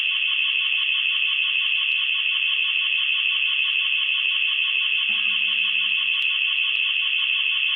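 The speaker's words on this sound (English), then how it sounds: "they must have like a house alarm because I heard it say clear" A house alarm sounds through a played-back security camera recording, a steady, loud, continuous electronic tone that holds unbroken throughout, with a faint low blip near the end.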